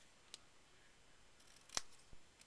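Scissors snip through card while trimming an easel card, a quiet close single cut with a couple of faint clicks around it.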